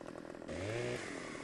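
A chainsaw cutting trees in the video game Farming Simulator 15, rising into a loud, steady buzzing whine partway through, then dropping back to a lower idle.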